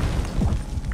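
A flashbang grenade going off in Black Ops 6 multiplayer, a short muffled boom with a dull low thump, heard alone and close.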